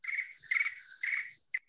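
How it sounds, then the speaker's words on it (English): A cricket chirps in a few quick bursts, close and clear, in an otherwise silent background. A final short chirp follows after a brief pause. "You're hearing crickets."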